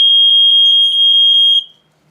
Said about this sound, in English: this one had the BRK type sound